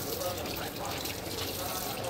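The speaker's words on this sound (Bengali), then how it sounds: "এখানে কিন্তু প্রপার কিন্তু জল পড়ছে" Tap water runs steadily in a train washroom on the Howrah to New Delhi Poorva Express, a continuous splashing wash with low rumble of the moving coach beneath and no clear voices.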